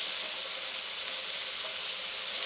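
Beans, carrot, potato and peas for a vegetable biryani sizzle steadily in a hot pan, a bright, dense hiss that stays loud and even throughout with no voices.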